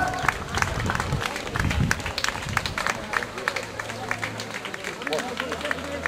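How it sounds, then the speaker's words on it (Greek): A crowd claps and cheers for the first woman crossing the finish line of a race, a dense, continuous burst of applause under an announcer talking over a loudspeaker. "Χειροκρότημα στην πρώτη γυναίκα."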